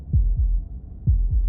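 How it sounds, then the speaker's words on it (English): Heartbeat from the game Slay the Princess: two steady lub-dub pairs of deep, soft thumps, loud and close, with a brief pause between them and nothing else around. "That was the sound of a heartbeat"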